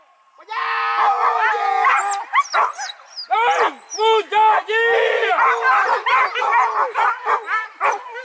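A dog howls and yowls loudly up close in long wavering cries broken by short barks and yips, continuing throughout with hardly a pause.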